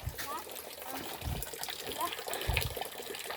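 Water flows steadily out of a pipe at a rural rest house in the Philippine countryside, a close, continuous trickling splash with a few low thumps, as people talk nearby.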